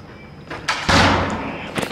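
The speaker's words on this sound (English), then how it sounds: "And we're knocking on the door" Knocking on a house door, a few quick muffled raps followed by a louder thudding bang and some rustle, close by and with no talking.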